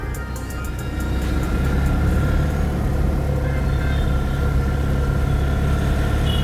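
Road traffic at the Dwarka Circle junction: a steady, loud wall of engine rumble and passing vehicles that holds without pause from start to finish, with no talk.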